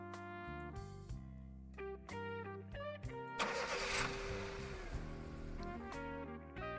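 A car engine cranking and catching in the 1980s-set mystery game Night Cascades, a short rough burst of engine noise partly under synth music, which plays before and after it.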